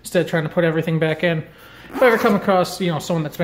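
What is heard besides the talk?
None of the usual background noises is heard.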